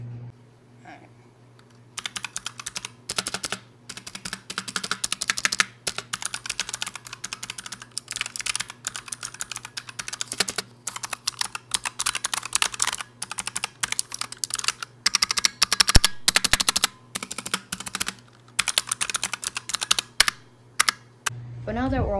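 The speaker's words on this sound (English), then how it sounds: "let's go ahead and get a keyboard test for you guys, just to see how it sounds" Rapid clacky keystrokes on a mechanical keyboard, typed in bursts with brief pauses, close and clear over a faint steady hum.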